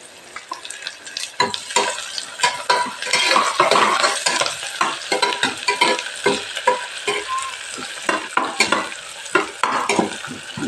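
Onions sautéing for biryani, stirred steadily in a pan: a continuous close sizzle broken by repeated scraping and clinking strokes of a spoon against metal, with no talking.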